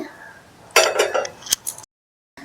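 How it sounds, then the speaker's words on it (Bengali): A metal tiffin box holding steamed prawns is opened with a short burst of scraping and clinking metal, a sharp click, then brief silence before faint handling resumes. "তো এবার আমি টিফিন কৌটোটাকে খুলব"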